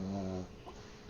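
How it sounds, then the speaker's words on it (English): A dog snoring while napping on a bed, one drawn-out low rumbling snore up close that trails off into quiet breathing. "Sorry if you can hear my dog."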